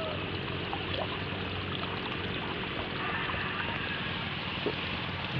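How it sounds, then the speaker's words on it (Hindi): Water gushes from an irrigation pipe onto crop fields on a small Pakistani farm, a steady pouring, splashing wash that holds at an even level throughout, moderately quiet with no voices. "जहाँ जो है ना आप अपनी फसलों को पानी लगा सकते हैं पाइप के ज़रिए।"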